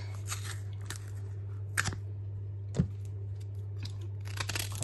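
Green plantain skin being peeled by hand, a few soft tearing and crunching snaps spread out over a steady low hum, close and quiet.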